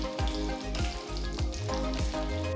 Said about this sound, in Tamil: அதே கடாயில 1/2 டீஸ்பூன் கடுகு, 1 டீஸ்பூன் சீரகம், 1 டீஸ்பூன் சோம்பு, 1 டீஸ்பூன் மிளகு, 2ஆ உடைச்ச 3 சிவப்பு மிளகாயை சேர்த்து நல்லா வறுத்துடுங்க.